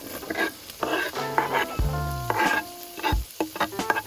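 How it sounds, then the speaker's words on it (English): Onions, garlic and celery browning in a potjie pot over a braai fire: a continuous close sizzle with stirring scrapes and a few clanking metallic knocks from the utensil against the pot. "Let's start getting the onions to brown."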